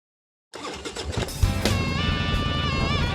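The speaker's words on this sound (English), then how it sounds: "Kickstart that engine and roll thunder with the pack." A motorcycle engine fires up after a moment of silence and settles into a loud, continuous throaty idle with rising revs, heard up close with no talking.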